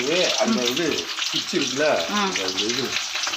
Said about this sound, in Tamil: இப்போ மீன் பொரிச்சிடலாம்.